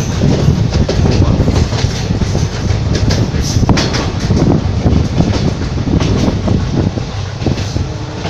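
The Amaravati Express runs from Goa toward Hubli, Karnataka with a loud, continuous rumble of coaches on rails and a rhythmic clickety-clack of the wheels, heard close from on board.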